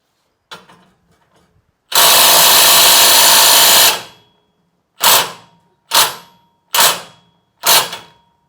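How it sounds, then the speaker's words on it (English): A small 12-volt impact gun working on a stuck bolt: a short weak stutter, then a loud two-second burst of hammering, followed by four shorter rattling bursts in steady rhythm, each close and loud. "This tiny little 12-volt impact gun versus the full-size DeWalt."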